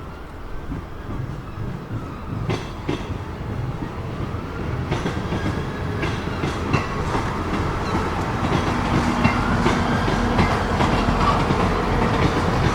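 A Leeds-bound train pulls out of Carlisle station, its wheels clattering rhythmically over rail joints and growing steadily louder, with occasional sharper clicks and a faint whine, and no voices.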